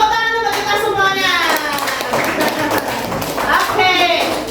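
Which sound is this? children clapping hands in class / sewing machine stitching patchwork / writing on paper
children clapping hands in class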